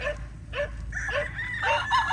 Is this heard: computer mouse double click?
no